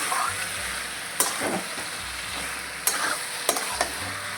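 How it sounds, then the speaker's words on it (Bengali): Mutton fat and taro stem curry with salt stirred in a pan, a spatula giving a few sharp scraping strokes against the metal over a soft continuous sizzle, close and fairly quiet, with no talking. "লবণ দিয়ে আমি নাড়িয়ে চাড়িয়ে নিচ্ছি কিছুক্ষণ"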